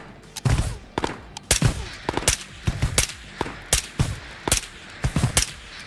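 Gunfire in the video game Ghosts of Tabor comes as rapid repeated shots in several bursts, loud and close, with sharp cracks that repeat irregularly for several seconds.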